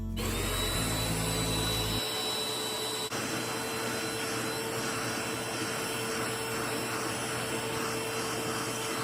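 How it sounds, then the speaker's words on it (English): Vacuum cleaner with an attachment cleaning a foam bed topper, a loud steady motor whine running throughout, its pitch settling after the first two seconds. "I'm just gonna use the vacuum attachments and get some of the fuzzies off of the bed topper."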